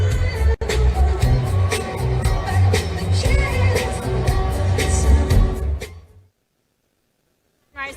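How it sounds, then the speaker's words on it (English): A large outdoor crowd gathers at a Trump rally in Gastonia, North Carolina, a steady murmur of many voices with scattered shouts and whoops, then falling abruptly silent near the end. "a large crowd that is filling up slowly but surely for the VIP area"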